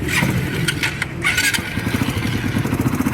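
A full-stock motorcycle engine starts and runs loudly and steadily, with a rough, sputtering idle and a few sharp rattling bursts near the start.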